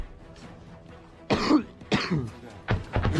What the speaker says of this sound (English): That man's got my cough.